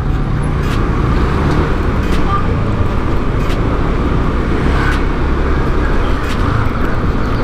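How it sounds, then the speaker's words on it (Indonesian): Congested road traffic is heard from a moving motorcycle, with a dense, steady wash of car and engine noise and wind rumble staying loud and close the whole time, and no voices. "Bentar sih, jalannya macet sih."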